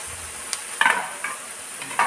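Grated coconut and turmeric fry in a pan with cooked tomato and onion: a soft sizzle is broken by a few sharp spatula clicks and scrapes.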